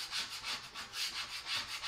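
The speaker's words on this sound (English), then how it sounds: "Just use your paste scraper." A paste scraper scrapes stuck chalk paste off a surface in a steady back-and-forth rhythm of soft, raspy strokes, about six in two seconds, quiet and close, with no speech.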